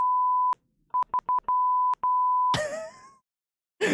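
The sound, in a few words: soundboard beep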